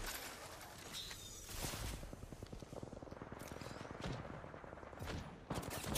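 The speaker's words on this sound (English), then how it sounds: "why would you be shooting at me?" Rapid gunfire bursts from Apex Legends weapons in a firefight, dense repeated shots with louder cracks near the end over a busy game soundscape.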